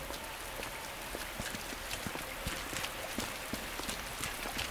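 Steady rain in the Resident Evil 2 Remake game, a dense continuous hiss with scattered sharper drop ticks throughout, fairly close and even in level, with no talking.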